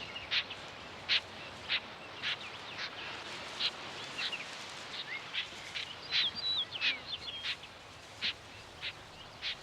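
Snipe calling in a Hokkaido marsh: a series of short, bright chirping notes repeated every half second or so against a steady breezy background hiss, fairly distant, with no voices.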